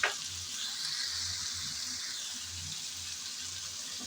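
Long beans dropped into a pan of potatoes frying in oil, a steady close sizzle running throughout with soft scrapes and low clatter beneath, no talking.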